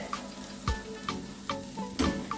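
A spinach omelette frying in a pan makes a soft, even sizzle, broken by several light taps and clicks at roughly regular intervals, quiet and close.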